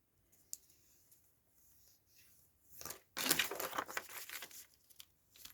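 Paper is folded down at its edges during a craft project, soft crinkles at first, then a louder close burst of crumpling and creasing lasting a couple of seconds.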